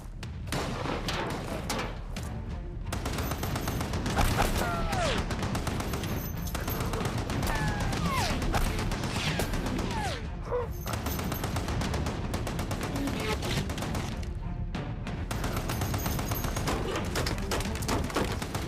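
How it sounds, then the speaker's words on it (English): .50 caliber machine gun fire rattles in long sustained bursts, loud and close, under booming battle noise with a few brief pauses between strings of shots. "Good, keep firing that gun! Pin them down!"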